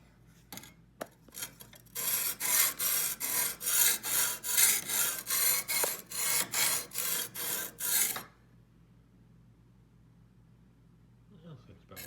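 Knife blade sharpened by hand on a farm, about a dozen steady rasping strokes in an even rhythm, close and loud, then a stretch of quiet near-silence afterward.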